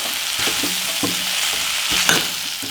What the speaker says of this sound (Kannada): ಸ್ವಲ್ಪ ನುಗ್ಗೆಕಾಯಿನ ಈ ಥರ ಎಣ್ಣೆಲೇನೆ ಫ್ರೈ ಮಾಡಿಬಿಟ್ಟು ಆನಂತರ ಉಪ್ಪು ಹಾಕ್ತೀನಿ